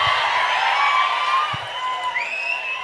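A seated crowd at a mimicry show claps and cheers in a dense, steady wash that fades slightly toward the end, with a few whoops rising above it.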